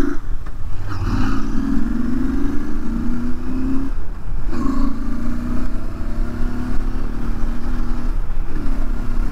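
A Royal Enfield Interceptor motorcycle fitted with carbon parts revs loudly and close by, with two rising engine pulls cut by a brief gear change or throttle lift, and no talk.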